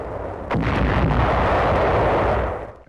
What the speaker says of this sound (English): Suddenly, enemy shells from La Spezia coastal guns explode nearby.